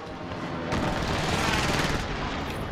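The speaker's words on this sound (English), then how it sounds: "Precision airstrike missed" Rumbling barrage of precision airstrike explosions in Call of Duty Warzone, a loud continuous roar of blasts and gunfire swelling after a brief lead-in and sustained to the end.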